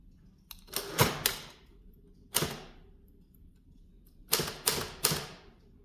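An Olivetti Diaspron 82 typewriter from 1963 clacks as its numeric tabulator keys are pressed, sharp mechanical strikes with carriage rattles in irregular clusters of two or three, close and distinct against a quiet room.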